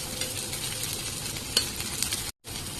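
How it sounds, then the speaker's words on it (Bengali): Chopped onions and green chillies sizzle steadily in a hot pan, a close, even crackle with a faint stir or clink partway through and a brief cut near the end. "এখন সবকিছুকে আরো একটু ভেজে নেব"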